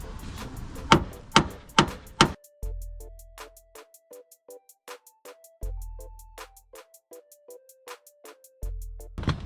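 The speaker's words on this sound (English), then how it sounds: "You just take a hammer and you could either hit this part or put the nut on and hit the nut down" Several sharp metallic strikes ring out in quick succession as a hammer drives a tie rod in on an Acura RSX, followed by a series of lighter, evenly spaced clinks with low thumps in between.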